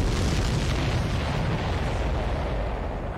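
Explosions in the aerial combat video game Ace Combat 7, a heavy rumbling boom that fills the low end and slowly decays over several seconds, loud and continuous without any voices.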